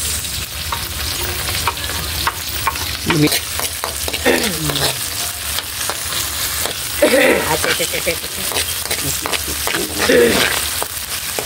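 Garlic, onion and kangkong stems fry in a pan with a constant close sizzle and intermittent stirring scrapes, while someone talks over the cooking.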